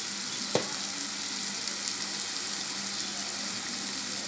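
Red chili powder, garam masala and pepper being stirred into hot oil in a pan for drumstick and potato bhaji, a soft continuous sizzle with one sharp utensil tap near the start.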